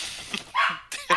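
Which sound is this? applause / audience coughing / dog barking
dog barking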